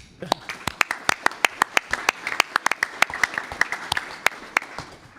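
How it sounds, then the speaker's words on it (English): Scattered hand clapping from a school board meeting audience after a vote, individual claps distinct and uneven, fairly close and moderately loud, without talk over it. "Let's give everyone a round of applause."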